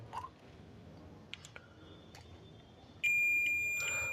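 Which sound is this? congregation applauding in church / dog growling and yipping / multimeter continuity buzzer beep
multimeter continuity buzzer beep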